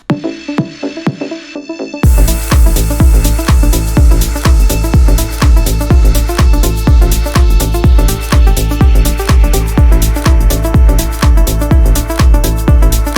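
Punchy electronic music with a steady pounding kick beat enters after a quiet opening, playing loud and dense throughout.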